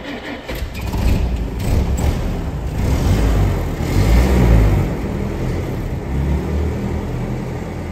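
A 1960 Citroën DS engine cranks and catches after being started with a lever, settling into a steady rumbling idle close by.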